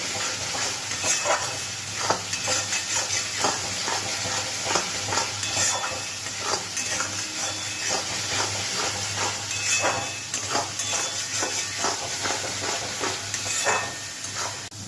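Spice masala frying in oil for a pangas fish curry, a loud continuous sizzle with rhythmic scraping and stirring strokes throughout, close and without talk.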